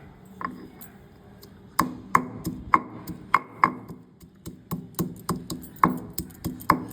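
Chopped ginger and green chillies being crushed, a series of sharp, evenly spaced pounding knocks at close range, starting sparse and then coming roughly every half second with no talk.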